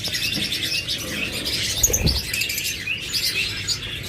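A pair of albino Fischer's lovebirds, a splitino-type pair kept in a cage with a nest box, chirps in quick high twittering bursts close by. The calls run steadily for about four seconds, with no talking.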